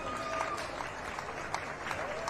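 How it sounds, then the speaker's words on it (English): Spectators at an open-air North Wales show clap for two Section A ponies, a light, scattered patter of applause heard at a distance with a voice running over it. "give a wonderful applause for these wonderful two ponies"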